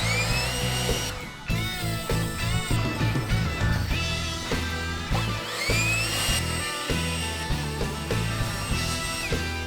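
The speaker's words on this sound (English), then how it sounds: "So now I'm gonna use my blower and just get all that dust off." Power blower clearing dust from a concrete skate ditch, producing a steady, close whine with rising and falling pitch.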